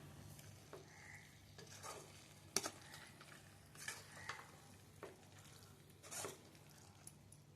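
Capsicum being stirred into a simmering prawn masala in a pan, with soft scraping and clinks of a spoon against the pan over a low steady sizzle, in a few separate strokes.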